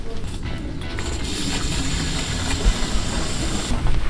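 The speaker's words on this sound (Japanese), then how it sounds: "うちはスプレーガンがあるんで今回めんどくさいんでそれでやります" A spray gun sprays lime sulfur onto a bonsai Japanese winterberry, giving a steady, close hiss that runs without a break for several seconds.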